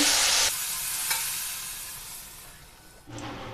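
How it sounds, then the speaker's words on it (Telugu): Semolina being stirred over low flame as hot water is added bit by bit, a loud hissing burst followed by a softer steady sizzle and stirring, then another surge near the end, no talk. "ఇప్పుడు వేడి నీళ్ళను కొంచెం కొంచెంగా వేసుకొని కలుపుకోవాలి"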